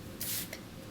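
A makeup setting spray, a Prep Set and Glow spray, misted onto the face in one short hiss close to the microphone, with a faint lighter puff just after.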